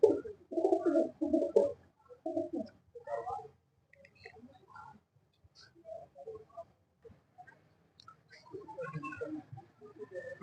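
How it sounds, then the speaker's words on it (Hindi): Caged pigeons, a mix of females, flying birds and young kept on a rooftop in Islamabad, give soft, throaty coos in scattered bursts, close by and otherwise quiet, with a little faint talk. "हम आपको बाकी कबूतर भी शो कराते हैं। ये इनकी मादियां हैं"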